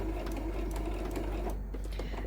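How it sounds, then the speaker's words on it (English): Sewing machine back stitching at a seam join on a small fabric nail file cover, a continuous close, fast mechanical whir with a steady hum for a couple of seconds. "I always like to just do a little bit of a back stitch at any join like that."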